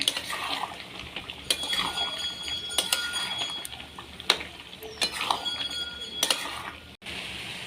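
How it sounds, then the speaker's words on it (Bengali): Chicken curry with fried potatoes being stirred in a pan during village-style cooking: close, irregular clinks and scrapes of a utensil against the metal pan over a soft background hiss, with brief louder knocks scattered throughout. "এবার ভালো করে নাড়তে হবে"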